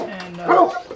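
A coon hunting dog gives a single close, loud bark with a whiny, tonal edge, cutting in over a faint background murmur.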